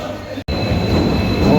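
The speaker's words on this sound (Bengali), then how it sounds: "ও আমরা ট্রেন আই গেছে" A train pulls into a station with a continuous rolling rumble of wheels and carriages. The sound cuts out briefly near the start, then swells slightly louder toward the end.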